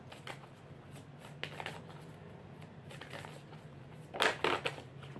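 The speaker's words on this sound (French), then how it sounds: "Et je vais prendre une troisième carte." Oracle cards rustle and slide as a third card is drawn from the deck, in a few soft papery bursts with a louder crisp shuffle near the end, and no voices.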